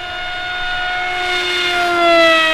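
A flying wing RC aircraft's electric motor at quarter throttle gives a steady, close, loud whine with a faint pitch drift and a slow swell in loudness, heard alone.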